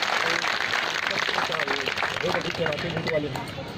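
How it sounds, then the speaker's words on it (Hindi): An audience at a Rajnandgaon statue unveiling ceremony claps in a dense, steady burst of applause, with crowd babble and a voice on the sound system heard underneath. "एक बार जोरदार ताली बजाकर हम स्वागत और अभिनंदन करते हैं।"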